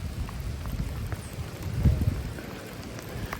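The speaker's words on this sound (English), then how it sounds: "It's raining quite badly" Heavy rain pouring in the woods beside a steep embankment, a dense steady wash with low rumbling gusts, close and continuous with no voices.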